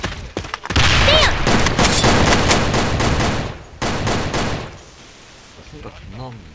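Dense, loud bursts of automatic gunfire fill a round of the online shooter Sudden Attack, with a short pause and then more shots. Game sound effects and a voice are heard near the end.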